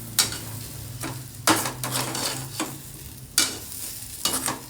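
Spoon stirring potato bhindi sabji with spice powder in a pan on a switched-off stove, in four distinct scraping strokes with a faint sizzle between them and no talk.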